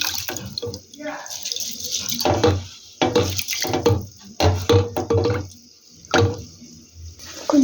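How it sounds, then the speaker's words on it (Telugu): Rice being washed in water: close splashing and swishing in bursts as grains are stirred and rinsed, with drips and pours between, and a person speaking over parts of it. "బియ్యం కడుక్కుంటున్నాం."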